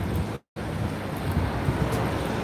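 Wind gusts outdoors in London, a steady loud rushing roar that buffets the microphone and briefly cuts out to silence before resuming.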